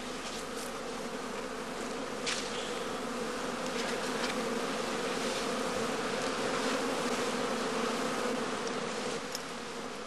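Honeybees buzzing at a hive, a dense continuous drone of many insects close by, steady and unbroken with occasional louder passes.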